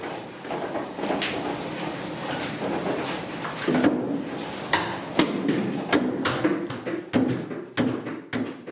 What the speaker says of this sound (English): these four so-called tilt hammers, they're the actual predecessors of today's air hammers and presses